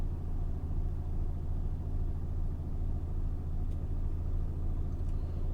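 Heavy goods wagons grinding along a hill road, a steady low engine rumble that holds constant throughout with no talk.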